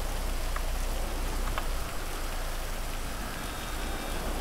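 Heavy rain in GTA 5, a dense steady hiss of falling water with a low engine rumble beneath, constant and fairly close, with no talk.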